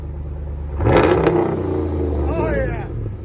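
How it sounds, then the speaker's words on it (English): RAM 1500 pickup exhaust fitted with a Dynamax muffler, a low rumbling idle that rises into a brief rev with a crackling edge, heard close and overlapped by people talking. "Yeah, the Dynamax gives it that nice crackle."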